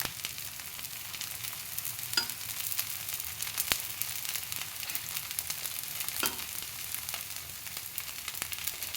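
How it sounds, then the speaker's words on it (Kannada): Rotti cooking on a hot pan at home, a steady soft sizzle and fry hiss running throughout with a few faint clicks, moderately quiet and close, with no talking. "ನೋಡಿ ಈಗ ರೊಟ್ಟಿ ಬೇಯಕ್ಕೆ ಹಾಕಿದ್ದೀನಿ."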